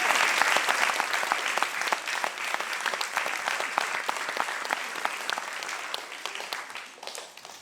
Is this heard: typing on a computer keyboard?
no